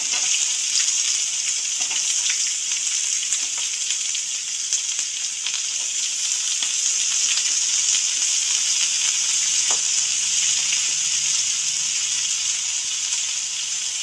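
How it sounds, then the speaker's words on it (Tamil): Onions with bay leaf, cinnamon, cloves and cardamom frying in hot oil, a steady, dense sizzle that continues unbroken throughout with faint scattered crackles and no talking. "வெங்காயம் நல்லா வதங்கட்டும்"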